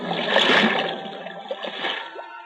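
A huge boulder crashes into the open sea beside a ship, throwing up a towering wave: a loud, broad watery splash and churning surge that rolls on and slowly settles.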